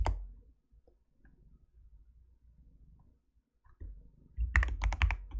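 Computer keyboard typing: a quiet stretch of faint room noise, then a close burst of quick, crisp key clicks near the end.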